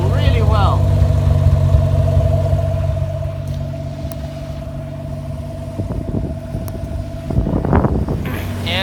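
An engine fitted with a tractor muffler idles steadily with a low, droning rumble, then revs up briefly near the end; a few faint knocks sound in between.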